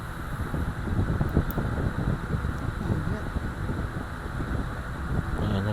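A steady, rushing hair blow-dryer drone, blowing hot air, runs continuously at an even level, with a faint airy hiss on top.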